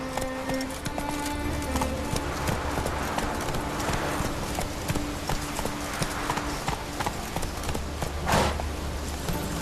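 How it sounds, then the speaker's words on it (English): The horse Roach gallops in The Witcher 3: Wild Hunt, a fast continuous clip-clop of hooves, close and steady, over a game background of music and ambience. "Run, Roach."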